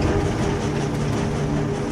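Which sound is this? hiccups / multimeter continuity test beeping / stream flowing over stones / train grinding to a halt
train grinding to a halt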